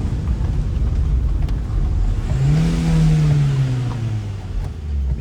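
A car engine rises in a steady rev as the accelerator is pressed, climbing in pitch and holding for a couple of seconds before easing back down, loud and close.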